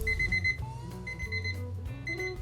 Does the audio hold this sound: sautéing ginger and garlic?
no